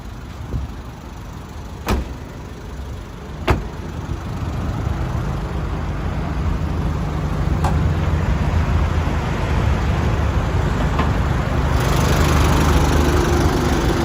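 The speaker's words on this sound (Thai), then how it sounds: "จะได้ฟังเสียงเครื่องนะครับว่าเพราะขนาดไหนครับผม" A 2014 Chevrolet Colorado X-Tra Cab with a 2.5-litre diesel engine idles steadily and loudly up close, a continuous rumbling drone that swells slightly over time, with two sharp clicks near the start.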